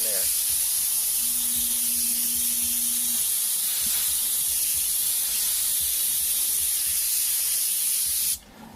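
An airbrush spraying paint gives a steady close hiss that runs without a break, cutting off sharply at the end, with someone talking over it.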